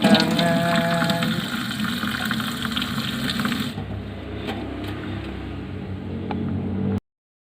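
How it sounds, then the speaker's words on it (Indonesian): Running tap water during handwashing, a continuous close splashing and hissing stream that drops to a thinner trickle partway through before cutting off abruptly. "dibilas hingga bersih, di air mengalir"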